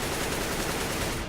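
Dense automatic gunfire in the video game CS:GO on the Overpass map, a sustained loud burst of rapid shots fired through a wall, heard alone for about a second.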